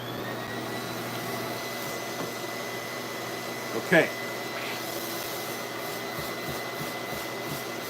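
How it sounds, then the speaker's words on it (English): A vacuum cleaner runs at close range with a steady, even drone throughout, and a brief knock breaks in midway while a person speaks briefly over it. "Yeah, I'm just gonna vacuum this."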